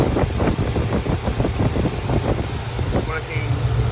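A supercharged 2015-or-later Ford Mustang engine with an intercooler chiller kit idles close by, a steady low rumbling pulse with a person talking over it.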